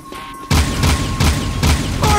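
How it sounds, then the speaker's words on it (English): Repeated booming blasts from the Jak 2 video game, several loud bursts in a row, each with a heavy low thump and a crackling tail, following a short quieter lead-in. "Explosion."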